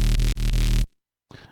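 Drum and bass synth bass in Ableton without vocoder plays a short, loud, harmonically dense stuttering phrase that cuts off sharply, followed by a faint trailing sound.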